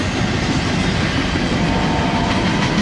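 The end cars of a fast freight train rush past up close, a loud continuous roar of rolling wheels and rattling wagons with rapid clickety-clack over the rails, steady throughout with no voices.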